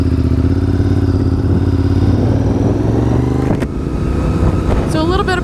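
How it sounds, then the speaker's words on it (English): Honda RC51 V-twin sport motorcycle engine running loud and steady, a dense low-pitched drone that wavers slightly, with a brief clatter near the end. "It's a V-twin motorcycle made by Honda."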